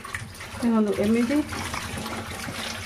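Tap water runs steadily while a metal utensil is rinsed during home lunch prep, a gushing stream with a brief louder splash near the start, under a woman's quiet speech.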